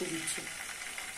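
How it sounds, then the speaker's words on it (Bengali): Chicken pieces frying in hot oil for pudina chicken, a soft steady sizzle heard close by under brief speech. "So we are going to fry the chicken now"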